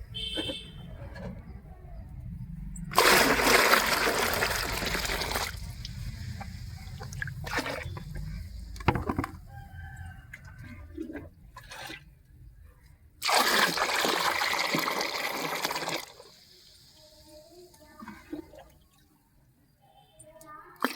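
Homemade organic liquid plant tonic poured into a container for flowering plants, two bursts of loud splashing pour a few seconds each, separated by quieter handling clinks and drips.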